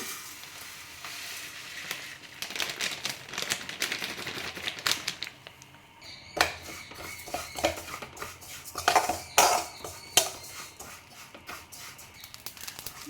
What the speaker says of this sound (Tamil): ஜீரகம் வறுக்கும் போதும் ஒரு மனம் அழகான மனம் வரும் பாருங்கள் ஒரு சவுண்டு வரும் இந்த சவுண்டு வந்ததோட ஜீரகம் ரெடி ஆகிட்டு